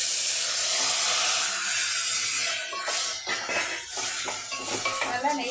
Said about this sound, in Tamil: நல்லா நெய்லையே கேரட்டை வதக்கிடணும்